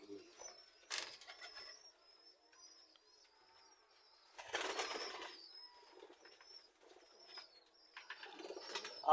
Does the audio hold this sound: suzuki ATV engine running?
no